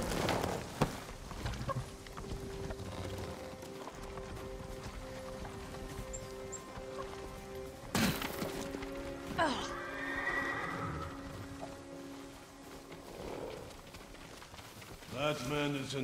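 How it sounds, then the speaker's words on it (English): Horses whinnying and hooves clip-clopping in the video game Ghost of Tsushima, with sharp neighs standing out over a music bed and game ambience. "Follow those horses."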